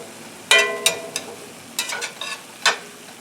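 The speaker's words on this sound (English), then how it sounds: "I think I'm going to simmer it for about an hour at least." Spaghetti sauce in a pot, with a spoon scraping and clinking against the pot in several short, close strokes over a soft, steady simmering hiss; no talking.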